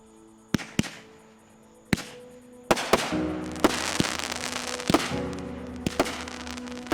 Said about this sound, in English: I'm a big fan of the fireworks